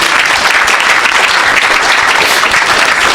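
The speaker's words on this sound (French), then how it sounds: "Acclamez pour Jésus." A congregation at a church healing service applauds and cheers loudly and continuously, dense clapping filling the room for a few seconds with no pause.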